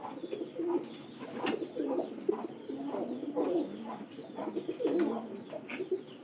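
Pigeons coo in a loft with straw nests, a steady run of low, throaty calls repeating close by without pause.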